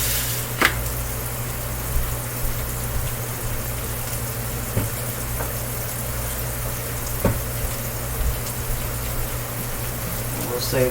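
Meat sizzles and fries steadily in a hot pan, a continuous crackle broken by a few sharp pops and stirring clicks.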